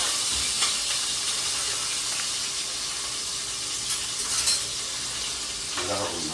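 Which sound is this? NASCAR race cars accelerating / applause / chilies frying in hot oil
chilies frying in hot oil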